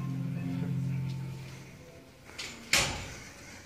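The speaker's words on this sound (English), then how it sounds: "These are hand-operated doors." Hand-operated wooden gate doors on a vintage hydraulic freight elevator slide and bang shut in a sharp, close knock, preceded by a hum and softer scraping.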